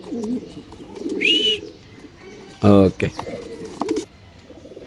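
Racer pigeons cooing up close, with a short higher call and a brief burst like fluttering wings, while someone talks over them.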